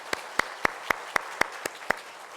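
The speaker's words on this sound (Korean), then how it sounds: "우리 함께 큰 박수로 축복해 주시기 바랍니다." During a Sunday church service, the congregation applauds to bless a deacon. Eight crisp, evenly spaced claps ring out at a steady rhythm, fairly soft and slightly distant, with no talking over them.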